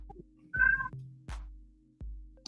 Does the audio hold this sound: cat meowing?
yes